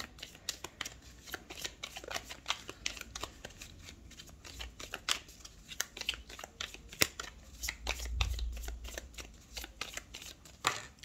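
A deck of Sibylle oracle cards is shuffled by hand, producing a fast run of crisp riffling flicks and slaps, close and continuous with no talking.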